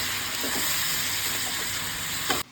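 Mutton fried and stirred in a pan over high flame gives a steady, close sizzling hiss with faint scraping of the stirring, and it drops away abruptly at the end.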